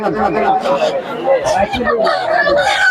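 Chickens at a pigeon and poultry market in Muradnagar, Comilla, with clucking and rooster-like calls mixed into a steady hubbub of nearby talk and market chatter throughout.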